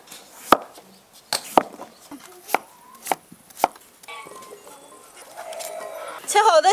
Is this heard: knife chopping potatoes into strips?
yes